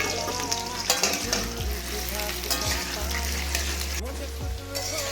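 Potato pieces released into hot oil hiss and crackle loudly and continuously, with spatula scrapes and clatter against the pan and a low rumbling hum underneath.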